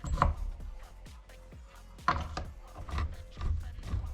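Ratchet and kickstarter being turned by hand in a K-750 motorcycle gearbox during restoration, several close metallic clicks and clunks spaced irregularly with quieter handling noise between.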